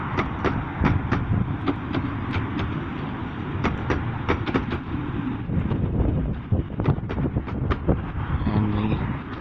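A small 0-4-0 tank locomotive hauling five carriages on a heritage railway in push-pull working. It gives a continuous rumbling run with sharp regular beats and clanks, and steady wind noise runs underneath.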